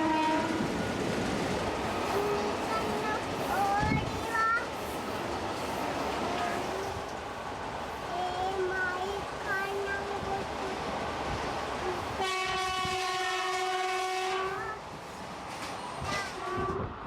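A passenger train in Kerala, India, heading toward Kochi rumbles and rattles steadily along the tracks, then a long, loud horn sounds near the end.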